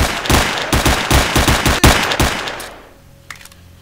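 Rapid automatic gunfire in S.T.A.L.K.E.R.: Shadow of Chernobyl, a loud burst of about a dozen sharp, closely spaced shots with a couple of short pauses, then a fade into quiet with one faint click.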